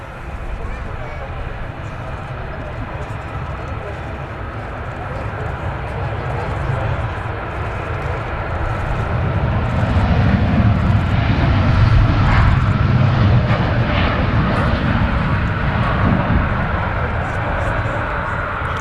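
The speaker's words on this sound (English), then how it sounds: "Let's catch the Dreamliner departing." A Boeing 787 Dreamliner departing Manchester Airport gives a broad jet roar that swells steadily, peaks loudly midway and holds as a heavy rumble, with voices talking over it.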